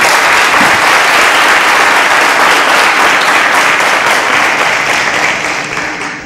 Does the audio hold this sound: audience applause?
yes